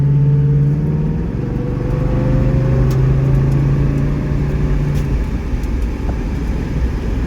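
An LS-swapped 1979 Pontiac Trans Am V8 runs steadily while being driven, a loud close droning engine note with a low hum that shifts pitch partway through, no talking over it.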